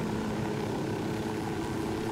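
Helicopter in the Ghost Recon Wildlands video game, a steady dense rotor and engine roar filling the whole stretch at constant loudness, with no voices.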